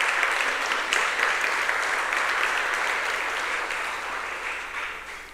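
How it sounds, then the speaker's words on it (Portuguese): Steady applause from a church congregation during a Sunday morning service, a continuous broad patter of many hands at moderate distance, slowly easing in loudness. "Pode aplaudir o nome de Jesus"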